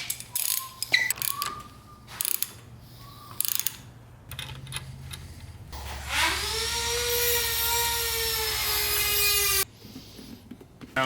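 A ratchet clicks in short bursts while tightening fuel system fittings on a Cummins-swapped 6.4 Ford, followed by a longer whirring, whining mechanical run, close and fairly quiet.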